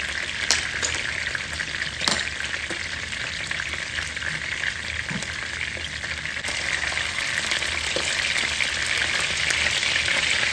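Food fries in a HexClad pan over turned-up heat, a steady, dense sizzle running the whole time with a few sharp pops and a slight swell toward the end, no voices.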